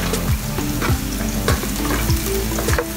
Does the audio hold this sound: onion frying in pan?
yes